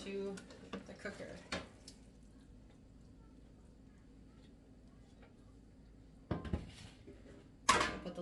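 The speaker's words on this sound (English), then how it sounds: "we're going to take all these bones and the juices and we're going to slide them right into the cooker" Chicken bones and their juices slide and clatter into a pressure cooker: a few clunks and wet knocks at the start, a quiet stretch, then two sharper clanks near the end, with no one talking.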